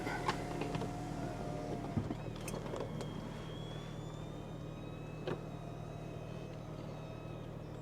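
Retracting soft top on a convertible car with a six-speed manual and Sport Plus mode, heard as a steady electric motor whine with a few mechanical clicks over a low, constant engine hum.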